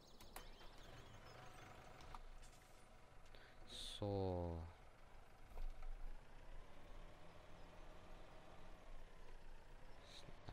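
A tractor engine in the farming game Landwirtschafts-Simulator 17 cranks and starts with a brief rising whine and a burst of rumble, then settles into a low idle while someone talks quietly.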